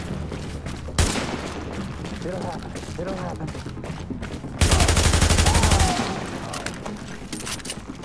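Gunfire in The Division video game: a sharp shot, then a steady mid-level din, then a dense rattling burst of rapid shots for about a second before it fades back into the game's background noise.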